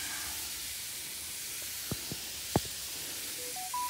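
A sprayer mists pesticide over bean plants in a garden, a steady, loud hiss running throughout with a few faint clicks and tones near the end, no talk.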